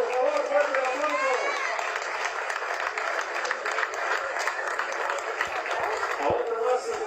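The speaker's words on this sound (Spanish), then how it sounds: "Vamos a darle un fuerte aplauso, por favor, fuerte aplauso" Audience applause at a Mexican civic ceremony honoring the flag and national anthem with a diploma presentation, steady dense clapping that continues loudly throughout, with a voice speaking over it at the start.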